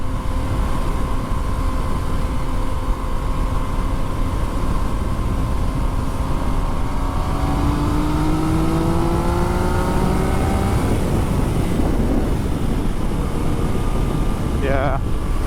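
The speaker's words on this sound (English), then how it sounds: "I can like just leave throttle off and then it'll gas out and then engine braking will happen on its own." A motorcycle rolls along a road ride near Bala, Muskoka, with the throttle shut so the engine brakes on its own. A steady, loud engine drone under heavy wind rush drops gradually in pitch as it slows.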